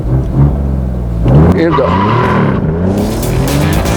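Remapped Alfa Romeo Giulia Quadrifoglio with over 500 horsepower launching on an airport runway in a drag race, a loud engine roar rising through the revs with tyre squeal, close up, as a person speaks briefly at the start.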